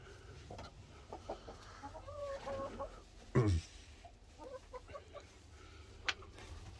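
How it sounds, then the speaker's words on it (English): Chickens and a rooster cluck softly in a quiet coop, with one louder squawk midway and scattered faint bird calls around it. "He's a nice rooster."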